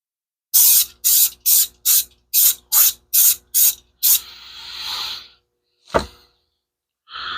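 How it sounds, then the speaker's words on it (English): Eight quick, sharp hissing bursts from a spray paint can in an even rhythm, then a longer sustained spray, a thump and another short hiss, loud and close, while painting a rifle green and brown. "And then I'm going to spray the green in the brown."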